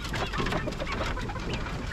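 A rooster in a backyard pet enclosure clucks faintly over steady, noisy ambience for a brief moment.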